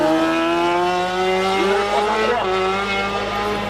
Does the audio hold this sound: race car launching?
yes